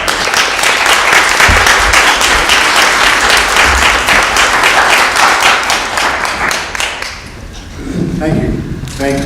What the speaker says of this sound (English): Please give Kai a round of applause